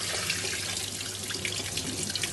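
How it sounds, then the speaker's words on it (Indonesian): Tap water runs in a steady, even stream into a sink while banana stem vegetable pieces are washed, a continuous close splashing hiss with no speech. "Kita masukkan dalam air, kita buangkan air yang tadi ya, sayur kita basuh."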